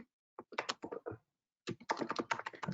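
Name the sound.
typing code on a computer keyboard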